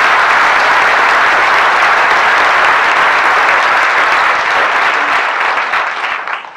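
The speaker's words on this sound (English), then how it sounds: "we would like to applaud him because this is a super photograph" Audience applause at a bird photography awards presentation, a loud, dense, sustained clapping from a large crowd that tapers off at the end.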